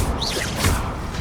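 A Revelio spell is cast in Hogwarts Legacy, a brief airy whoosh with a shimmering rising sweep and a soft thump, close and fairly loud, lasting about a second.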